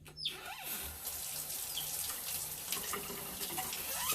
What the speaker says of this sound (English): we're gonna get the warm water